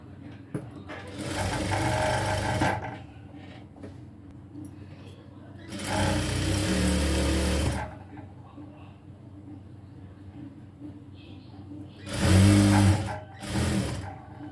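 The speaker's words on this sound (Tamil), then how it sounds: "இதை ரெண்டாக மடித்து இப்படி ஒரு ஸ்டிச் பண்ணிக்கிறேன்" Sewing machine stitching a strip of old shirt cloth folded in two, running in three separate bursts of steady whirring with quieter gaps between, plus a short final burst; a voice talks faintly in the pauses.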